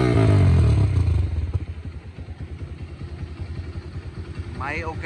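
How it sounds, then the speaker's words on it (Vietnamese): A 2016 Kawasaki KPR 125 motorcycle idles close by with a low, smooth, steady putter after a loud start-up burst, while someone speaks over it. "đang nổ máy đấy mà rất là êm luôn."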